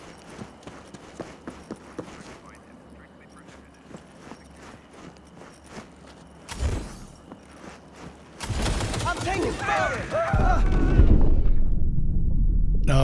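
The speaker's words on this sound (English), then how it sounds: "There must be power turrets shooting through the concrete" Power turrets shooting through concrete in Cyberpunk 2077: scattered light taps and thuds build into loud, continuous rattling bursts of fire in the second half, rising to a heavy rumble.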